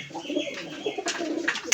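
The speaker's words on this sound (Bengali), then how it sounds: "এই যে সব কবুতরগুলা নিচে খাবার খাচ্ছে" Rajshahi Giribaj pigeons feed on the floor of an indoor loft, giving soft, throaty coos close by with a few brief rustles.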